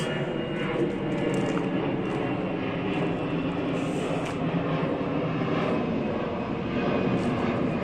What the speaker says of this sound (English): And another plane, because we are not far away from the Linate airport